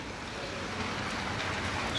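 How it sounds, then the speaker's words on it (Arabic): Steady rain falling over a street in Madrid, a soft continuous hiss that holds at an even level throughout, with no voices. "الساعة دلوقتي 2 وما بطلش خالص شتا هنا في مدريد."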